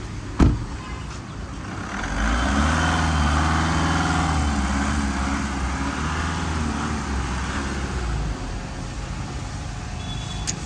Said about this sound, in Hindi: डीजल इंजन है भाई, डीजल इंजन।